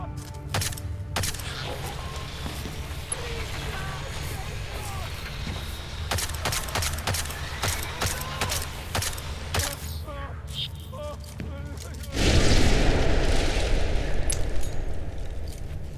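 Video game gunfire shooting down drones, scattered sharp shots and bursts amid synthetic robotic voice lines, ending in a louder sustained blast of noise.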